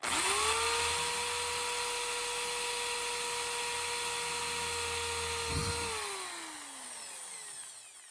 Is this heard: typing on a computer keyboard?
no